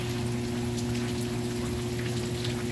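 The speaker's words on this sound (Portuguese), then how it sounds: "Nossa, tá chovendo aqui, ó." Rain falls during a storm on a countryside property, a steady patter heard alongside a constant low mechanical hum.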